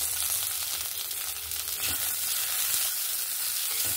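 Ginger, garlic and cashews fry in hot oil in a pan with a steady, close sizzle and occasional small pops and stirring scrapes.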